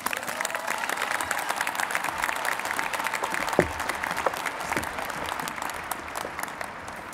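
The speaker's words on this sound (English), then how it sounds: "let's give a huge round of applause for our very own Mr." A graduation crowd at Minnetonka High School applauds steadily for a faculty member named Mr. Breen, with dense, even clapping from a large audience lasting the whole stretch and a few sharper claps standing out.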